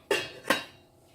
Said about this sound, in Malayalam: ഞാൻ ഇനി ഇതിപ്പോൾ ഒന്ന് മൂടി വെച്ച് വേവിക്കാൻ പോവാം